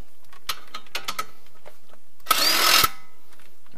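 A Subaru Crosstrek's bottom suspension bolt is undone during a lift kit install, with a few small clicks followed by a short, loud whirring burst from a power tool.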